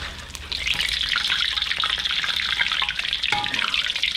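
Battered shrimp frying in hot oil, a dense, steady crackling sizzle that swells after a brief quieter start and holds close and loud throughout.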